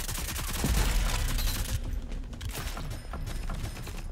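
Pocket SMG gunfire in the Rogue Company video game, a rapid dense burst of shots for under two seconds, then quieter mechanical clatter and faint rattling.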